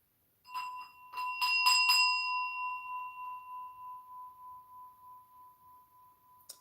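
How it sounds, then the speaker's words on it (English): A small metal bell, struck several times in quick succession, rings out clearly and then fades into a long, pure, sustained tone that dies away slowly in a quiet room. "Let me just knock my bell."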